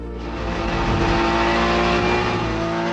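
A 2007 Porsche GT4 race car on track at Misano, its engine roaring loud and close at sustained high revs with steady harmonic drone and no talk.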